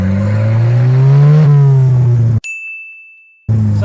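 A loud big-turbo Volvo drift car engine revs with a rising, droning pitch, cuts out abruptly into near silence with a thin high tone, then roars back in.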